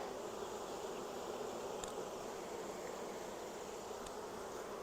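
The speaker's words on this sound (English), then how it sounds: "the way the bees are starting to buzz in this box" A steady, dense buzz of many honeybees in a hive box, a constant droning hum with faint wing fanning, close and continuous throughout.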